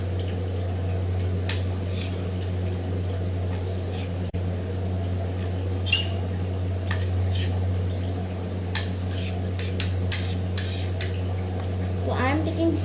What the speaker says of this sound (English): so I will cut the green chili and some garlic.